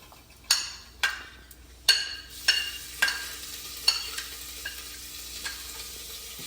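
Spice paste with asafoetida, coriander and cumin frying in a pan over low heat, a soft steady sizzle broken by regular clinking stirs of a spoon against the pan.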